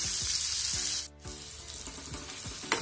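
Chopped onion and cumin sizzle loudly in hot butter in a wok, a dense steady crackling hiss that dips briefly mid-way, with faint rhythmic background thumps.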